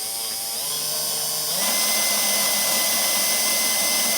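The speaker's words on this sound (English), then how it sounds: "we'll get this drilled out and drill through the frame rail" A power drill bores through the steel frame rail of a 2023 Fleetwood RV while a cargo sliding tray is installed, a steady close whine that rises and grows louder partway through, with no talking.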